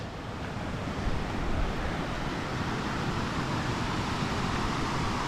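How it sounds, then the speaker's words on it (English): Waterfall at the top of the Birthday Creek falls, a steady, loud broadband roar of rushing water that continues unbroken, with wind buffeting the microphone and no voices. "Here we are at the top of the falls."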